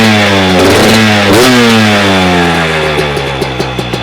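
A 2024 Beta 300 Race Edition two-stroke motorcycle, somewhat warm, runs close by with loud, buzzy revs that rise and fall before settling into a popping idle.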